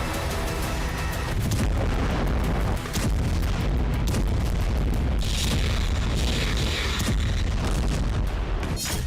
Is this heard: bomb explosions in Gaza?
yes